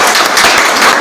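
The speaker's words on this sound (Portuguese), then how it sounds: "Aplauda o Senhor pela vida dela" Church congregation clapping in a dense, steady burst of applause, loud and close, with no voices over it.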